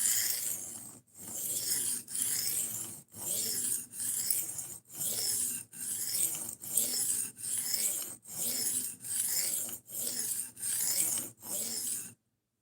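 Steady strokes of an S90V steel knife blade rasping across a sharpening stone, about a dozen even, closely spaced passes with brief gaps between them, close and fairly quiet, raising a burr along the edge.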